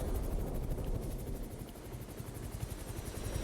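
A helicopter in the video game Chernobylite thuds with a fast, steady rotor chop, a quiet continuous pulsing that stays even for a few seconds with no talk over it.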